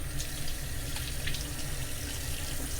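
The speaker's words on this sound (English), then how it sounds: "I put the cold water on and everything pulled back up" Cold water runs from a kitchen tap in a steady, close, splashing stream into a sink, continuous for a few seconds with no talking.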